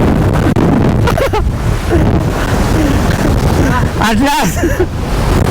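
Strong wind buffets the microphone at an open hilltop viewpoint in Malico, Pangasinan, a loud continuous roar throughout, with a voice briefly speaking over it.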